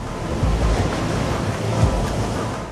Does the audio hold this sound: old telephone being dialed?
no